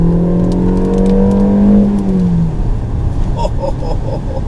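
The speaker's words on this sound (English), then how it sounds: "Listen to the sound of this engine." A Peugeot 3008 engine revs hard in sport mode, its loud rising growl climbing in pitch and then falling back to a rough, rumbling idle, with light crackles near the end.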